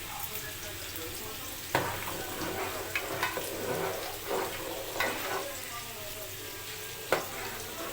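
Kanika, a sweet Odia rice dish, cooks in a pot on a gas stove. It gives a steady close bubbling and sizzling hiss, with a few sharper clinks or pops standing out now and then.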